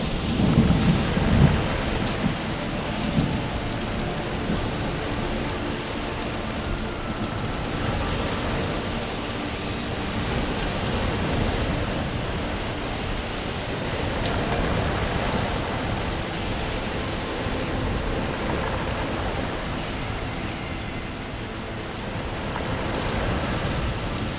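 A violent storm at sea, with heavy rain hissing steadily and deep rumbles of thunder rolling beneath it, a dense, continuous wash of sound with no voices.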